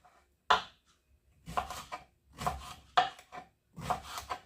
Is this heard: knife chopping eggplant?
yes